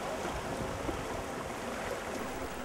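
Rushing river water churns around a boat on the way to Pagsanjan, a steady dense wash of flowing water without pause or voices.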